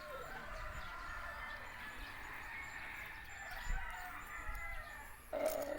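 Roosters on a cock farm: a crow rises near the end over steady outdoor background noise and faint distant clucking.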